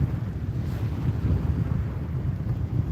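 Strong wind buffets the microphone on an Atlantic beach at Amelia Island near Fort Clinch, a loud, steady low rumble with faint surf beneath and no talk.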